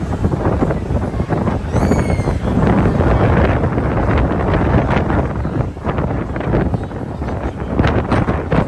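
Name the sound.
wind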